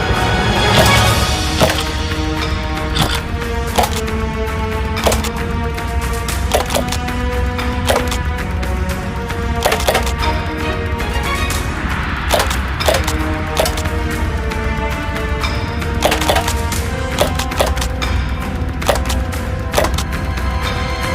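A G&G ESG B-10 airsoft bullpup shotgun fires at targets on an outdoor range, sharp cracking shots repeating at uneven intervals over a steady background roar, with no voices.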